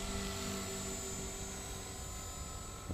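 A helicopter hovers steadily during flight training, a constant loud rotor and turbine drone with a high whine, heard close and uninterrupted throughout.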